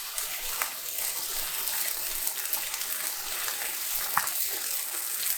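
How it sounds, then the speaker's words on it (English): Steady, crackling sizzle of cheesesteak meat frying in a hot pan, a continuous hiss with occasional sharper pops and spatters, heard close and without any talking. "Hear that sizzle."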